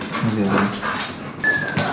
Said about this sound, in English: My dog Rex.